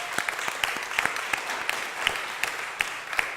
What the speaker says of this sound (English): let's applaud Philadelphia's housing counselors